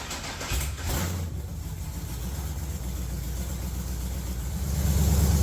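A pickup truck's Gen 3 LS engine idles steadily with a low, even rumble, growing slightly louder near the end; no voices.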